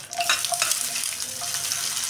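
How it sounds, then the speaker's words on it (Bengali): Chopped onion hitting hot oil tempered with dried red chillies, bay leaves and whole cumin for mutton keema khichuri, giving a steady close sizzle and crackle with a few brief stirring scrapes and no talking. "পেঁয়াজ কুচিটা দেবো।"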